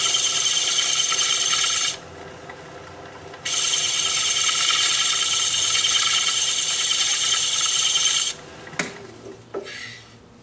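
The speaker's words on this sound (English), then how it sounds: "I'm just going to use this brass brush." A brass brush rubs against a spinning alder bowl on a wood lathe, a loud, continuous hissing scrape that stops briefly, resumes, then breaks off near the end as the lathe winds down.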